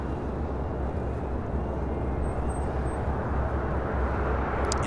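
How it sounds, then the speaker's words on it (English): A United Airlines Boeing 737 MAX 8 jet airliner at LAX sends out a steady, broad jet roar, loud and unbroken, heard alone for several seconds. "United Airlines Flight 417 heading to Call Louis. It's a 737 MAX 8."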